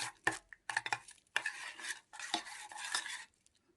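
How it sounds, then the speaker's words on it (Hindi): A homemade hair dye mixture with coconut oil stirred in a bowl, giving quick scraping, clinking strokes in short bursts with brief pauses, close and fairly quiet. "ये डाला आपने, फिर आप मिक्स कर लें इसे अच्छी तरह।"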